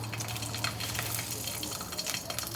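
Five green chillies fry in a little hot oil in a pan, making a steady, close sizzle and crackle with faint stirring, continuous and moderately loud, with no talking.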